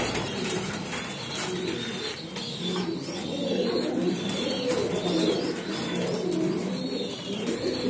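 Racing pigeons coo softly in a low, repeated throaty murmur, close by and steady over a constant background hiss, with no talking.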